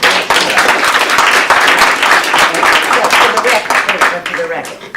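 Audience applause at a community healthcare discussion hosted by a lieutenant governor, dense loud clapping filling the whole stretch and tapering slightly at the end, with some voices mixed in.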